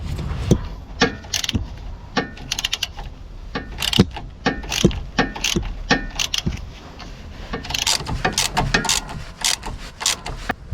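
A Torx bit tightens the stabilizer link screw on an Audi A1 8X, giving a dense run of close, quick mechanical clicks and ratcheting ticks that keep going throughout, with no voices.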